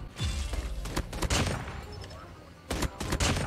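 Rapid pistol fire in the Indonesian-played shooter game Call of Duty, setting tuned around the Kilo 141: loud bursts of close gunshots in clustered volleys with brief pauses, with faint talk in the background.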